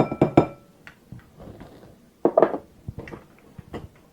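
Egg and sour cream batter mixed in a bowl, with clinking utensil taps against the side and scattered scraping strokes that come in two short clusters, fairly close and alone.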